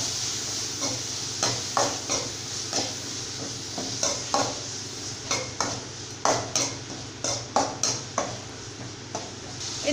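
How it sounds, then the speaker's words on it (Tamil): Tomatoes sizzle steadily in hot oil while a utensil stirs and scrapes the pan in repeated, irregular strokes. "இப்போ வந்து தக்காளி வந்து நம்ம எண்ணெயில வதக்கிக்கலாங்க"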